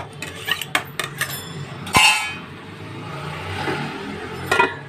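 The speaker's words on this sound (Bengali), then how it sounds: "এটাকে ঢাকা দিয়ে দেবো যাতে আস্তে আস্তে সব সবজিগুলো সেদ্ধ হয়ে যায়" A metal lid goes onto a cooking pot of vegetables set to simmer: a few light clinks come first, then one sharp clank close by, followed by quiet background noise.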